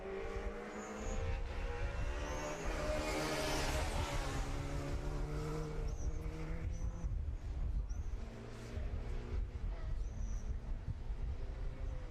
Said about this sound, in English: Just heard car 40 in the background going past the start.